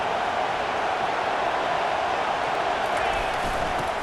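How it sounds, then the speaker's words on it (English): A steady, dense roar of a large college football stadium crowd at a Penn State vs Auburn game fills the space continuously, a broad wash of voices with no single sound standing out. "This crowd bringing the energy and noise early."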